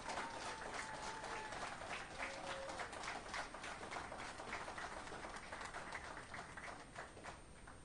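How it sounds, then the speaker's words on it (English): A large audience applauds the seniors at a senior film festival, a dense, steady wash of clapping that holds evenly for several seconds, heard from a distance and fairly faint, with faint tonal traces in the background. "just another round of applause for the seniors for all their hard work"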